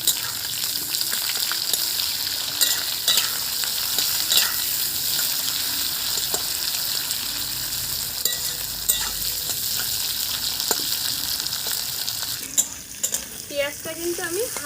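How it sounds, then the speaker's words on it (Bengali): Sliced onion rounds lightly frying in oil in a pan for a taro (kochu) flower dish, a steady close sizzle with occasional stirring scrapes throughout, no talk. "পেঁয়াজটা কিন্তু আমি হালকা ভাজবো, খুব ভাজবো না।"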